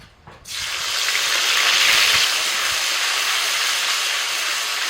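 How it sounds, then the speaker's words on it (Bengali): Onion paste hits hot oil in a wok already seasoned with cardamom, cinnamon and cloves, bursting into a loud, steady sizzle that starts abruptly and continues evenly up close. "ফোড়নটা হয়ে গেলে দিয়ে দিচ্ছি পেঁয়াজ বাটা"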